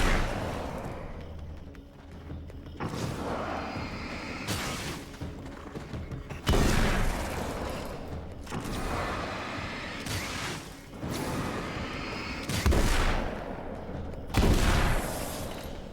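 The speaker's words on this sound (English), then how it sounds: "We're gonna just shotgun you." Gunfire in the video game Alan Wake American Nightmare, with a series of heavy shotgun-like blasts and mechanical clatter repeating irregularly over about sixteen seconds at moderate loudness.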